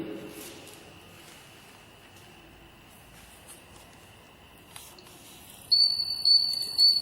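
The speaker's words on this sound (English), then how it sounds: "Now the buzzer is turned on, indicating the signal" An electronic buzzer alarm switches on near the end, a steady high-pitched tone pulsing loudly over faint room noise after a quiet stretch.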